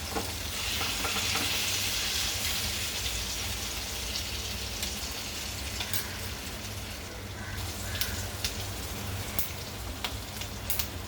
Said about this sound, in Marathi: आपण आता उलटून घेतलेत तीळ सुटल्यामुळे खूप तडतडत आहे